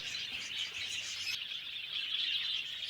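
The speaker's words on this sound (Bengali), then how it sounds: "এখন দেখছেন হোয়াইট জাভার কলোনি সেট আপ এছাড়া বদ্রি ফিঞ্চ লাভবার্ড সবই রকমের পাখি রয়েছে এখানে" Small cage birds, Java sparrows, finches and lovebirds in a breeding colony, chirp in a dense, continuous high-pitched chatter, faint and without any voices.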